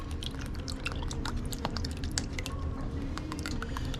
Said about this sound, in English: We're gonna put the coconut milk in there.